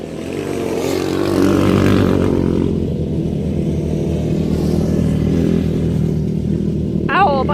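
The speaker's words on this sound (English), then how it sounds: "Oh, a bunch of dirt bikes." Several dirt bikes riding past on tracks in the Judean desert, a continuous loud engine drone and revving that swells and fades as they pass, with a brief voice near the end.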